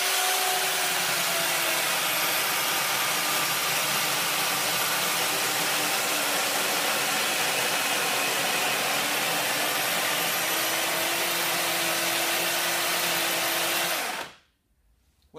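A chainsaw fitted with a T-Rex EZ Slotter runs steadily at full throttle for about fourteen seconds cutting a post-and-beam slot, a loud continuous whine with a gritty edge as it bites through wood, then cuts off abruptly.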